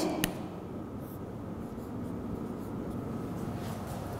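Writing numbers on a board during a math subtraction lesson, with a soft sharp tap and then faint, quiet scratching strokes over a steady low room hum.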